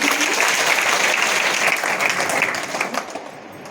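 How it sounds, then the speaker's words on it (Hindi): Loud audience applause at a legal awareness program for students, a dense wash of clapping that holds steady then fades away over the last second. "जोरदार तालियां सर।"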